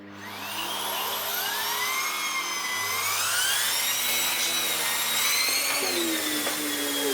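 A bagged vacuum cleaner runs steadily and close, a continuous whine with shifting pitch that rises and falls as the machine is moved, heard alone for the whole stretch.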